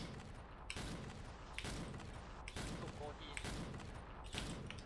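Sniper rifle shots in the video game XSHOT ring out as sharp, loud cracks roughly once a second, five in all, over a steady bed of game noise and faint voices.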